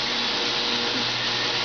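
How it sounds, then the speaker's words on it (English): A small cooling fan on an Ender 3 3D printer draws air steadily, giving a constant close whir with a broad airy hiss and a low hum that stays level throughout, with no talk. "That particular fan is pulling air from this area."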